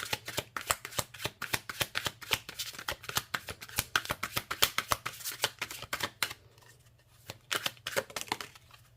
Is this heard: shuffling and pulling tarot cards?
yes